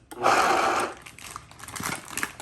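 Garlic scapes being ground with butter in a kitchen machine, a loud whirring burst for about a second that then drops to softer, uneven grinding and rattling.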